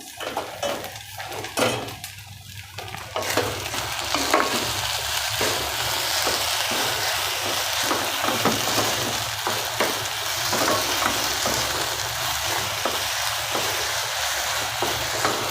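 Farali sabudana (sago) stirred in a pan over low heat, a spoon scraping and clinking against the metal in repeated close strokes over a soft continuous sizzle, with no talking.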